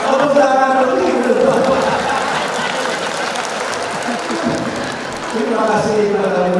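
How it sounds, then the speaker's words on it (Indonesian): An audience at a church empowerment gathering claps in a dense, sustained round of applause that swells near the start, eases, then picks up again, with crowd chatter and voices mixed in. "Tepuk tangan dulu."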